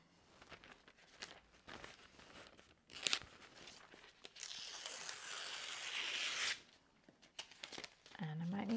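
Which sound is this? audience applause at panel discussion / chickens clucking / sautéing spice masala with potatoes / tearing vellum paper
tearing vellum paper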